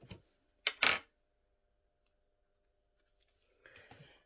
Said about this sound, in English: So I'm actually going to cut this elastic at 21 centimeters long.